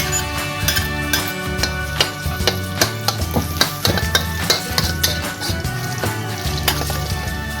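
Garlic fries in a wok at the start of a stir-fry of Chinese cabbage with minced pork. A steady sizzle runs under rapid, rhythmic clinks and scrapes from a metal spatula against the pan.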